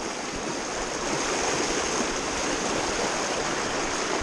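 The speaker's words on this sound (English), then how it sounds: "we just came up the waterfall" A mountain stream tumbles down a waterfall over rocks into a pool, a steady, loud, close rush of water that never lets up, with no voices.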